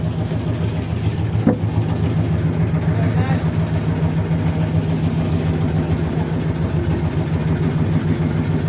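A boat engine runs at a steady, even hum at a lake ghat in Rangamati, close and continuous, with people talking over it.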